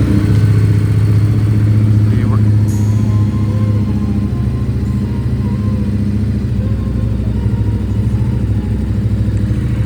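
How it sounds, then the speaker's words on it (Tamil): A motorcycle engine idles steadily while warming up on a Kerala road trip, loud and close with an even, continuous rumble and no pauses. "அப்படியே வண்டியை ஸ்டார்ட் பண்ணி நான் வார்ம் அப் பண்ணுறேன்."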